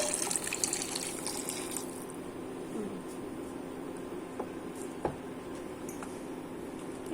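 Water runs into a pot of boiling potatoes on a kitchen stove, a short close splashing pour that fades after a couple of seconds, leaving a low steady simmer with a few faint clinks.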